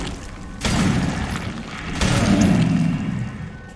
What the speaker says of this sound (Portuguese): essa granada incendiária funciona muito bem nele